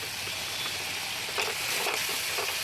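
Spiced momo filling is stirred in a hot frying pan, with a continuous soft sizzle and a few brief scraping strokes partway through.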